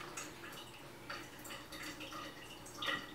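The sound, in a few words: sink tap dripping water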